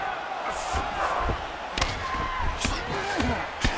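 A crowd in the UFC 5 video game roars at a strike during an MMA fight, with cheering swells, thudding impacts and game commentary running through it.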